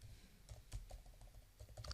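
Computer keyboard typing at close range, a quick run of soft clicking keystrokes in an irregular rhythm with a few heavier presses, no talking.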